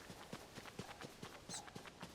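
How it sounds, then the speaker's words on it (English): A bokoblin-drawn horse and cart in Tears of the Kingdom passes with faint, evenly spaced hoof clip-clops, a quiet steady trotting rhythm over soft background hiss. "You riding a horse and cart?"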